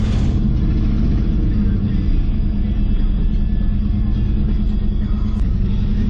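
A pickup truck engine rumbles steadily while driving, a loud low drone heard from close up, with no talk over it.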